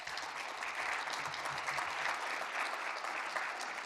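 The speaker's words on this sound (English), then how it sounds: "A round of applause" Audience applause at a small-towns pitch event, a steady, dense wash of many hands clapping that holds at an even level throughout.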